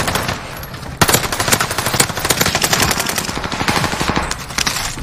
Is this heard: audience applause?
no